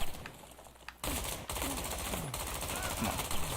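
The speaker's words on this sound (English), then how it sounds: "how many bullets do I have to pump into you?" Rapid automatic gunfire from the first-person shooter XIII on Xbox One, dense repeated bursts filling most of the clip after a brief quieter opening, with a faint voice briefly underneath.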